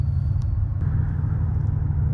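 A BMW M760Li V12 engine rumbles steadily and loudly at close range, a continuous deep low drone with no breaks and no voices.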